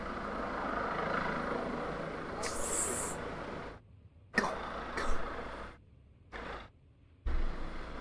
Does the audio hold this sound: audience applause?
no